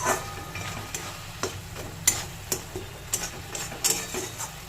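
Jaggery and coconut filling stirred in a pan, a spoon scraping in a steady series of clear strokes over a low cooking hiss, close and moderately loud with no talking.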